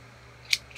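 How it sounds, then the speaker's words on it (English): A single crisp snip of scissors cutting sewing threads on a crossbody bag project, a short bright click followed by a fainter second snip in a quiet room. "And cut my threads."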